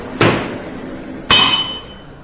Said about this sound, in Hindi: देखो, ये मेरे हाथ में हथौड़ा है, तीनों को मारेंगे